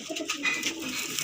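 A small black Madrasi pigeon, a female kept for sale, coos softly in a brief, gentle run of low calls close by, with no talk over them.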